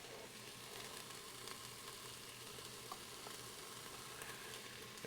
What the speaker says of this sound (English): our vegetables have been sauteing in here for 4 to 5 minutes and they're starting to get soft